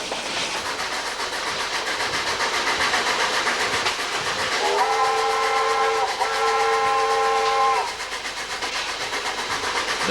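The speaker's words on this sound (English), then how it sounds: "The two whistles announce to those on the train that a photo stop is not far away" Two blasts from a steam locomotive's whistle on a line climbing high above Blueskin Bay north of Dunedin, New Zealand, ring out over a steady hiss and rumble, the second held longer before cutting off.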